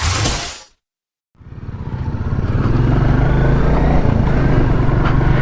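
A Royal Enfield Classic 350 motorcycle engine runs close by with a steady, pulsing thump: a brief burst, a moment of silence, then a continuous, even running note that holds to the end.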